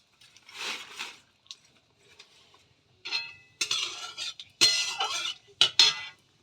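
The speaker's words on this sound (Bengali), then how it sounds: "এটা ভাজা ভাজা করে নেব" Stirring and frying in plenty of oil in a pan with cumin seeds, for pointed gourd: scraping clinks and sizzling bursts that come and go, growing louder and denser toward the end, with no talk.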